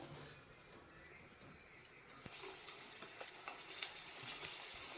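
Vegetable chops dropped into hot oil set off a steady, bright sizzle about two seconds in, after a quieter stretch of hiss, and the frying crackles on continuously to the end.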